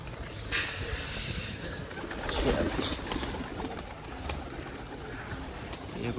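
Pigeons coo softly at a pigeon loft over a steady, noisy outdoor background, with occasional brief flutters and low rolling calls that continue throughout.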